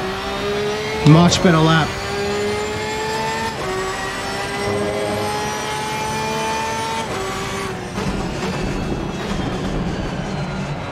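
A Porsche 992 GT3-R race car in Assetto Corsa Competizione, racing at Valencia, with its engine note climbing and falling through gear changes over a steady drone. A short spoken remark cuts in early.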